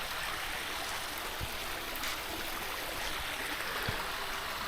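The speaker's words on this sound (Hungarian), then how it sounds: "Itt folyik ez a patak, ez a kemping mellett megy el." A stream flows past a campsite, a steady faint rushing of water that runs evenly throughout, with a few small clicks over it.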